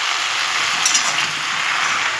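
Chopped greens sizzle in a pan with peas, potatoes and peanuts, a steady close hiss of frying with a few faint clinks of utensils and no voices.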